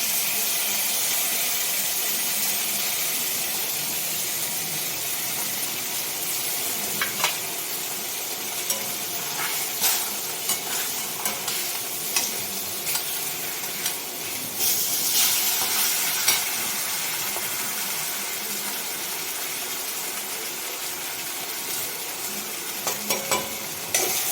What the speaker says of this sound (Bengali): একটু পেঁয়াজ বাটা দিয়ে দিই